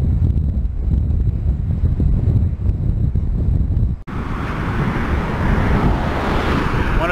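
Strong headwind buffeting the microphone while riding a Ninebot One electric unicycle along a road, a loud continuous low roar and rush that shifts character abruptly midway, with no talking.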